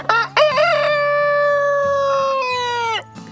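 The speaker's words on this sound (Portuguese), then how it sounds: "Não há necessidade de um galo, já que este faz muito barulho" A backyard rooster gives one loud, close cock-a-doodle-doo, starting with a few stuttering notes and then holding a long clear call for about two seconds before stopping sharply.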